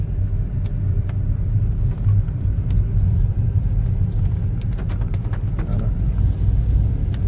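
A car on a road trip to Kokkathode, driven by the speaker's wife, with a steady low rumble of the engine and road noise filling the whole stretch, close and even, with no talk.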